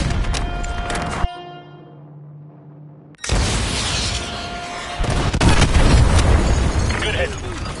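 A heavy missile explosion in the Call of Duty: Modern Warfare 2 Remastered game, a loud deep boom that breaks off into a low droning hum before a second roaring blast and sustained rumbling debris noise.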